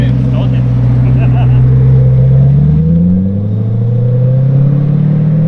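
A Corvette C8 with its LT V8 and a custom exhaust revs loud and close, a deep rumble that climbs and then drops back, with people speaking over it.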